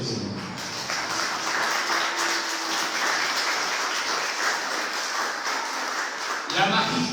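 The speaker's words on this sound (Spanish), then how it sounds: "Dale un aplauso al Señor." A church congregation at a Sunday night sermon applauds in a sustained, even crackle of many hands, framed by a voice speaking briefly at the start and again at the end.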